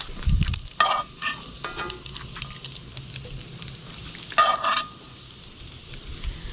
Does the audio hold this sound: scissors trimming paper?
no